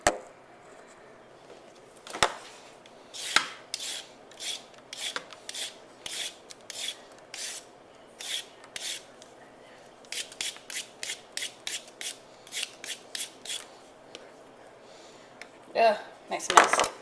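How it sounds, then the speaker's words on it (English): A peeler scrapes down a carrot in quick, even rasping strokes, about two dozen in a steady rhythm close up, followed by a couple of sharper knocks at the end. "So let's peel a carrot."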